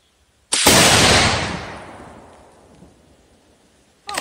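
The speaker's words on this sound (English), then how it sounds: "Send this last one home, the Winchester light box." A single loud Savage Axis II heavy-barrel 6.5 Creedmoor rifle shot firing Winchester ammunition cracks sharply up close, then rolls off in a long fading echo before another sharp sound begins at the very end.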